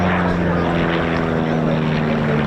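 A de Havilland Chipmunk light aircraft flies at the RAF Cosford Air Show, its propeller engine a steady, droning hum that holds throughout while a commentator speaks over it.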